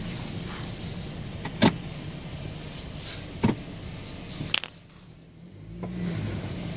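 A 2008 Dodge Caliber parts car with a broken ball joint, driven around a farm, giving a low road rumble with a few sharp clunks and rattles from the cabin.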